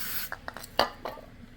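A short hiss of aerosol MAF sensor cleaner sprays at the start, then a few light clicks and taps follow nearby, on a 2013 Mazda MX-5 air intake.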